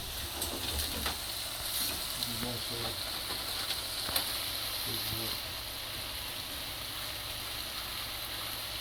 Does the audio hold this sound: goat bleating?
no